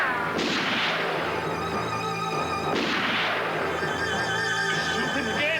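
Gunfire in a 1980s police TV drama scene, two heavy booming shots a couple of seconds apart with ringing tails, loud over a constant dramatic background.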